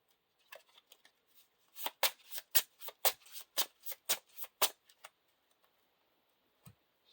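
Cards being shuffled close by, with a hero card, the Elven King, shuffled into a deck: a quick run of about a dozen crisp riffling snaps, then quiet with one last soft tap.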